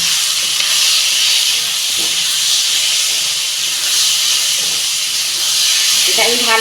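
Vegetables hit hot oil over fried ginger-garlic paste in a home kitchen pan, giving a loud, steady broadband sizzle that holds throughout, with a few faint utensil knocks and a brief voice near the end.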